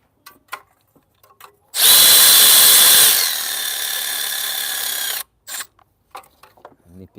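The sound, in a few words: ratchet tightening bolts on Ford Focus EcoBoost engine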